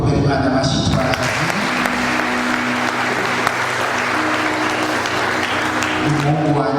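A church congregation applauds loudly and steadily throughout, dense clapping with crowd voices mixed in, at a lively gospel service in Burundi.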